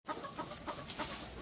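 Hens clucking in a group of about ten, short repeated clucks and murmurs close by in a steady, busy chorus with no talking.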